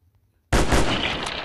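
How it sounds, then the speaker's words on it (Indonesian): After a moment of silence, a loud gunshot bursts out abruptly in a survival hunter video game, and its rumbling echo rolls on for about a second. "tembakan gitu tuh guys."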